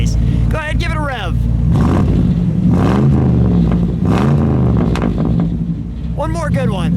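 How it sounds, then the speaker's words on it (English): A 1961 Chevrolet Impala Sport Coupe bubble top with a 348 V8 revs up from idle in a few strong, rising blips with a deep burble, close and loud, while people talk over it. "Go ahead, give it a rev."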